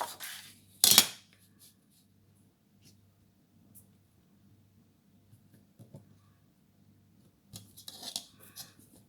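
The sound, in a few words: cutting paper for a flipbook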